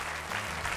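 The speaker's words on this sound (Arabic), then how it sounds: "صفقوا لي مريم يا شباب لو سمحتوا." Children clap for a girl named Maryam in applause for her finishing the Quran, a steady patter of hands lasting under a second at moderate level with no talk over it.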